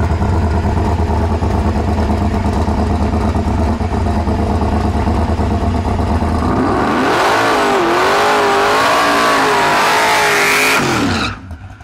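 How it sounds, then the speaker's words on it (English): A race car with a brand new transmission idles with a loud, rumbling engine, then revs hard into a burnout as the pitch climbs and wavers with tire spin. It is close and loud, then cuts off abruptly. "He did a lot less of a burnout when Steve was here"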